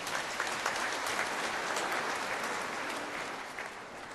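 A church congregation claps loudly during a homily, steady broad applause from many people, fairly distant and even throughout with no voices standing out.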